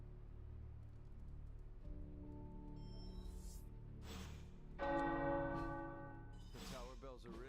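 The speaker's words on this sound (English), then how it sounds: "The tower bells are ringing." Tower bells ring in Marvel's Midnight Suns, heard faintly through soft ambient game sound, with a couple of clearer tonal strikes standing out near the end.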